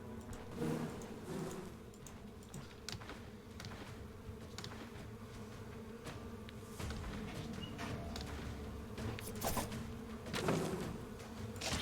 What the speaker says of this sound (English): I'm killing hundreds of bees.